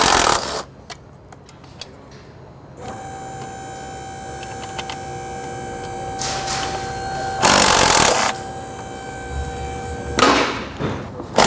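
Jeep intake bolts come out one after another as the upper plenum is freed, with a tool's whirring and ratcheting plus a few loud bursts and clunks of metal handling, close and otherwise quiet.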